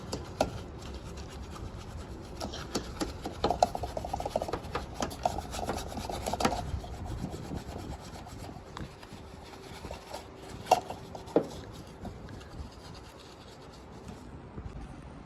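A car's gas cap and the area inside it being scrubbed clean, close soft brushing and rubbing strokes in irregular bursts, fairly quiet with no talking.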